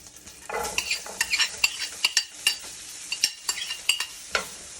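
Garlic and onion sauté in a hot pan with a soft sizzle, while a utensil stirs and scrapes with a steady run of sharp clinks and taps close by.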